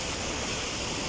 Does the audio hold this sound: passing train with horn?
no